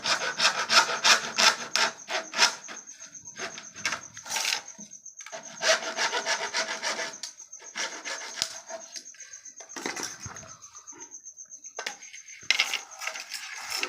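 A hand saw cuts through a pipe on the coast where fishermen build a spinning wheel, with rapid rhythmic rasping strokes close by, a thin metallic ringing, and brief pauses between bursts of sawing.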